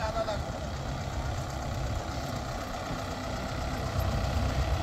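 A Mahindra 575 XP Plus tractor engine idles to warm up, a steady low diesel rumble close by that holds evenly throughout with a slight swell near the end.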